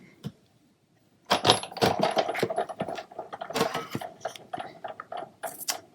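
A Big Shot die-cutting machine is cranked through its plates, giving a steady run of clicking, ratcheting mechanical rattles with small knocks, close and fairly loud after a quiet start.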